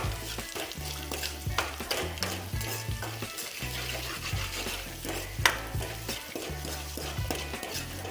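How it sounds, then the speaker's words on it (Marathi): Masala and salt are stirred into a potato and pea curry in a pan, with rhythmic scraping strokes over a low sizzle and an occasional clink of the spoon against metal. "आता हा मसाला आपण चांगल्या प्रकारे मिक्स करून घेत आहोत"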